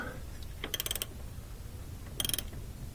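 Emergency brake cable adjuster on a Yukon being tightened by hand, giving two short bursts of quick metallic ratcheting clicks, close and fairly faint, over a steady low background hum with no talking.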